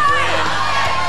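Studio audience on a TV game show cheering and whooping for a contestant climbing a wall in the Climbing the Mountain challenge, a loud, dense crowd roar with shouts under a commentator's voice.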